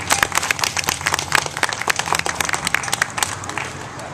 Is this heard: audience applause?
yes